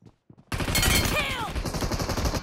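A double barrel shotgun fires in the mobile game BGMI, a sudden loud blast after a near-silent start, followed by a sustained roar and rattling gunfire.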